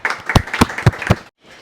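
A small group of students claps in a mobile repairing classroom, about four loud distinct claps close by over a short burst of scattered clapping, ending abruptly in near silence.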